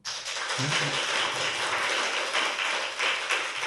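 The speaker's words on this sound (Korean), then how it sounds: "박수" Studio audience applause on a Korean talk show, a dense, steady wash of many hands clapping that holds evenly for a few seconds, with a brief low murmur near the start.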